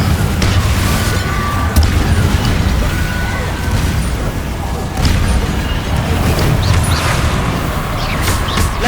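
Confringo fire-blast spell bursts in Hogwarts Legacy on PS5, booming through a dense, constantly loud wash of game combat noise, with a few sharper blasts standing out near the middle and end.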